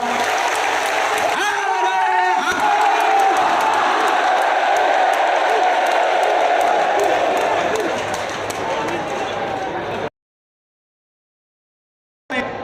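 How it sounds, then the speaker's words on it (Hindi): Huge gathering at Bageshwar Dham clapping and cheering to welcome the Prime Minister, a loud sustained roar of applause and shouts mixed with voices, fading slightly before abruptly cutting to silence near the end. "जोरदार ताली बजा करके हम सब पूरा बागेश्वर परिवार स्वागत करें"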